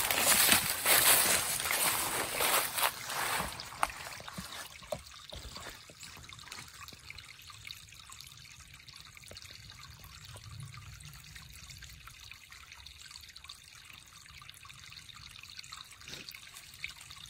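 Spring water trickling into a hillside watering hole that never goes dry, a brighter splashing flow at first that settles into a faint, steady outdoor trickle.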